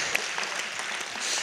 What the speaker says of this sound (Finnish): Annetaan taas vielä Rennelle kunnon aplodit